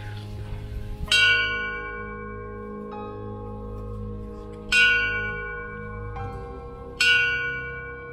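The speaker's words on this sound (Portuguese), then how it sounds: "Então, galera, o sino tá aí, ó." A bell at a medieval chapel rings out in three clear, resonant strikes spaced a few seconds apart, each one followed by a long ringing decay, with fainter in-between tones and low rumbling background noise.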